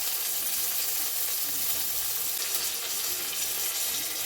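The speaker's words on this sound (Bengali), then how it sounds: "এবারে এগুলোকে নাড়াচাড়া করে ভালো করে কষিয়ে নেবো" Spices with chopped tomato, turmeric, salt, sugar and ground ginger-cumin paste sizzling and being stirred in a pan for a bitter gourd dal: a steady, soft crackling hiss that runs throughout, with no one talking.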